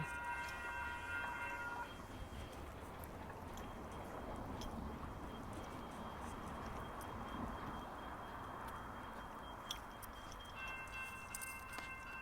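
A train rumbles steadily in Somerset-Bridlewood station, a broad continuous roar with faint high tones and clanks, moderately distant and without speech.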